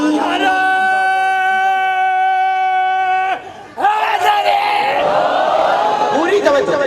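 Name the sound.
crowd chanting religious slogans at a Muharram gathering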